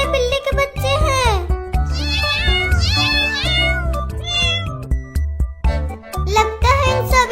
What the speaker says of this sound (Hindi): वो देखो कितने सारे बिल्ली के बच्चे हैं।